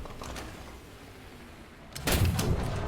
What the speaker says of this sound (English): I aimed that shot too late, and obviously pulled the trigger too late